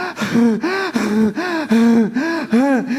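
A storyteller uses his own voice to imitate the rapid gasping breaths of a man who has run out of oxygen at 18,000 feet. About six loud, close, voiced gasps come in a quick, steady rhythm with no other talk.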